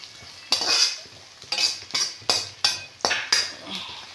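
Carrot and other vegetables fry in a pan for egg fried rice, a soft background sizzle broken by about eight sharp rhythmic scrapes and clinks of a spatula against the metal, close and fairly quiet.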